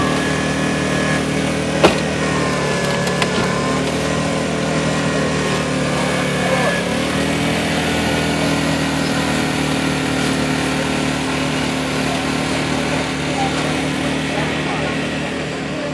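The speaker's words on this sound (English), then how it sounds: "See him cutting the door open, trying to pop it open?" Fire rescue crew at a fire department carnival demonstration cutting open a jammed car door, a steady loud mechanical drone like a running engine or power unit that continues throughout, with voices mixed in.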